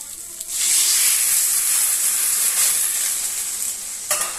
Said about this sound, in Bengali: এবার আমি এটার মধ্যে জলটা দিয়ে দেব।